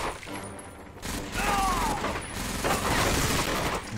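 Rapid gunfire and mechanical clatter from the video game Medal of Honor: Vanguard, a dense busy burst of shots running steadily throughout, loud and close with no talk over it.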